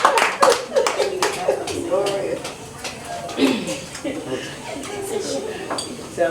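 Audience applause at a gospel music show, a burst of clapping mixed with crowd chatter and light laughter, fairly close and steady under the room noise.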